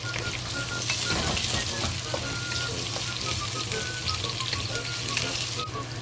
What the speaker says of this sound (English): When the garlic flavor released, and add the carrots into it to fry it.